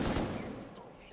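Video game gunfire: a loud burst of shots at the start that fades into a decaying rumble, with no talk over it.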